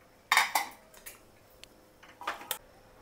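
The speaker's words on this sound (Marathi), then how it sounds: "आपण आता कुकरचं झाकण उघडून बघूया" A pressure cooker lid is lifted off in a home kitchen during mutton chop cooking, giving a couple of sharp metallic clanks followed by lighter clinks and rattles, close and fairly loud with no talking.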